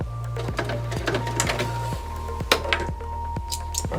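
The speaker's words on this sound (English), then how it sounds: "you're going to sew across the pleats" Sewing machine stitching across the pleats of a face mask sewn from car cover fabric, a steady close mechanical whir with regular thumping stitch beats about twice a second and light clinks over it.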